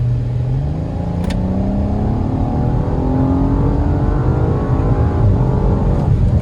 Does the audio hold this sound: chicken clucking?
no